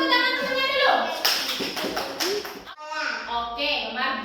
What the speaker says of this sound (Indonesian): Kasih tepuk tangan temennya dulu.